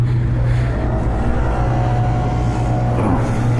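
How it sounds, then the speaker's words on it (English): A leaf blower runs nearby with a loud, steady motor drone and whine that holds constant from start to finish. "Oh, leaf blower."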